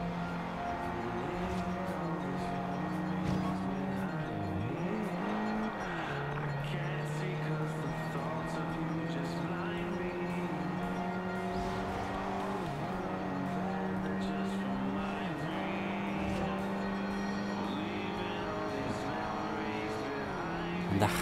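Race cars on a Forza Horizon 2 street race, engines droning steadily with rising and falling revs through gear shifts and corners, while a voice talks throughout.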